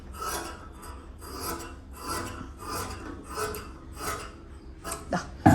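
Scissors cut fabric for the front portion of a nightie frock in repeated rhythmic rasping snips, close and moderately loud, ending with a sharp thump.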